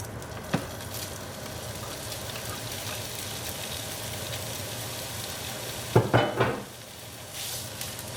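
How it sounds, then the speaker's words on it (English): Chicken frying in a preheated skillet gives a steady, close sizzle throughout, with a brief louder burst of crackling and stirring noise near the end. "you definitely wanna hear a sizzle, which is why you wanna preheat the pan"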